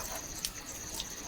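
Water running and splashing while raw chicken is washed for a village-style biryani, a steady gush with a few small splashes and drips.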